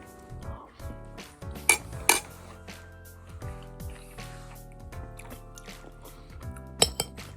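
A metal spoon mixing chura (flattened rice) and dahi (yogurt) in a bowl, with close clinks and scrapes against the dish and a few sharp knocks, heard without speech.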